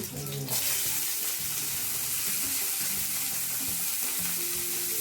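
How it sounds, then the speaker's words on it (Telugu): Cumin, sliced green chilies and onion pieces frying in hot oil for a pepper chicken fry, heard as a loud, dense, continuous sizzle close up after a brief initial clatter. "నూనె బాగా వేడెక్కిన తరువాత అందులో కొంచెం జీలకర్ర, సన్నగా కట్ చేసుకున్న పచ్చిమిర్చి, ఉల్లిపాయ ముక్కలు వేసి బాగా వేయించుకోవాలి."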